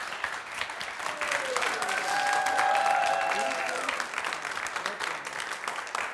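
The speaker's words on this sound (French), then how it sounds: "Applaudissements pour eux." An audience at a film quiz event applauds the winners, sustained clapping with a faint tonal sound rising and falling through the middle, no one speaking over it.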